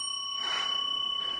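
A single bell ring with a clear, sustained metallic tone that lingers faintly and evenly, heard alone.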